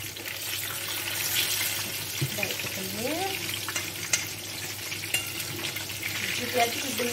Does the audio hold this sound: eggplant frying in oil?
yes